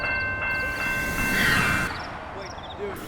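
A train passes in a video game, a steady rumbling wash with tonal horn-like lines that swells mid-clip and then fades, while people talk excitedly over it.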